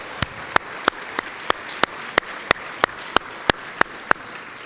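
Evenly spaced sharp claps, about a dozen at a steady beat, sound over a soft background hum at a college livestream event, as a round of applause for a group of named people.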